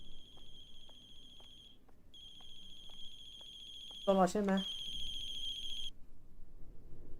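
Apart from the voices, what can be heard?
telephone ringing in video game The Closing Shift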